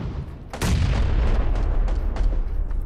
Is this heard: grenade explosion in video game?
yes